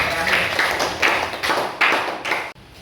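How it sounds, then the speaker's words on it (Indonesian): Students and a class applaud the last group in a classroom, a short burst of close, dense clapping that swells in pulses for about two and a half seconds before cutting to quiet. "beri tepuk tangan untuk kelompok terakhir"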